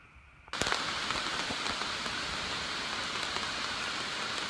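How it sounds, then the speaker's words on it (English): Steady rain starts suddenly and keeps drumming on a tarp shelter in the Shenandoah Mountains, a dense, close patter with scattered louder drops. "Here's the rain."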